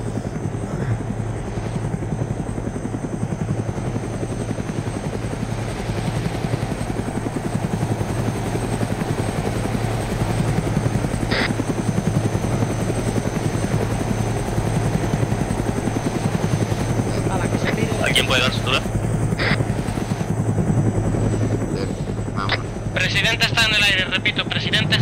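Military helicopter in ArmA 3 during a Spanish milsim operation, a loud, constant rotor and engine drone filling the whole span, with a few brief clicks and a burst of higher-pitched noise near the end.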